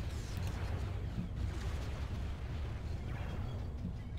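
Continuous rumbling artillery fire and explosions pound a base under attack in a Star Wars battle game, a dense, steady low barrage with no clear breaks.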